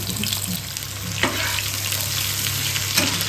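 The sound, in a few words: whole cumin and chopped green chili sizzling in hot oil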